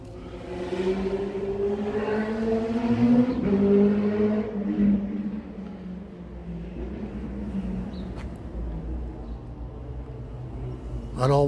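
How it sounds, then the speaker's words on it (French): Motorcycles pass along a quiet outdoor path on an April walk, their engine drone rising and falling in the mid-distance under a person talking, with a brief high whine near the end. "Alors vous avez entendu le bruit des motos là qui viennent perturber la sérénité de ce lieu."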